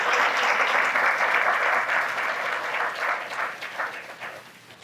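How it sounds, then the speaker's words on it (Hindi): A church congregation at a Hindi Exodus sermon clapping in thanks to God: dense, loud applause from many hands that holds steady, then thins and fades toward the end. "तालियां बजा के प्रभु का धन्यवाद।"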